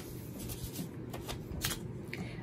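Sheets of pattern-making paper are handled and rustled for pants fitting, giving a string of soft, crisp crinkles and flicks close to the listener.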